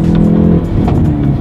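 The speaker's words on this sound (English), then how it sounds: "let's do it again, rev match." A Hyundai Veloster N's exhaust blips sharply through a rev-matched downshift, loud and close, the engine note rising then falling with a burbling edge as revs settle.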